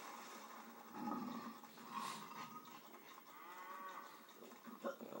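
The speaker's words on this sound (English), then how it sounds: "Oh, them cows are mooing, and they're mooing like pros." Cattle moo in the video game Conker: Live & Reloaded in long, low drawn-out calls over a soft background, a couple of cows lowing at moderate distance without any talk.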